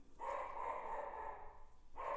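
A dog barks indoors in a long, drawn-out burst followed by the start of another, moderately faint and heard on its own without talk.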